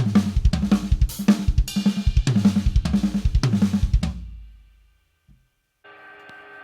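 A drum kit fill with the right hand moving around the drums, played as a steady run of loud, close hits across toms and snare for about four seconds, then a decaying ring, silence and a brief cymbal shimmer at the end.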